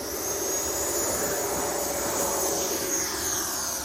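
A 90mm electric ducted fan on an FMS Avanti RC jet roars with a steady, dense hissing whine on its maiden flight, loud and continuous throughout with no voices.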